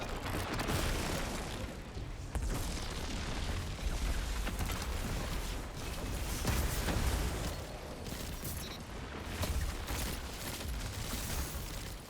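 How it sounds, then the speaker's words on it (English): A grenade blast in the Destiny 2 shooter game, buried in a loud, dense wall of gunfire, impacts and booming effects that runs continuously throughout. "Mid grenade throw"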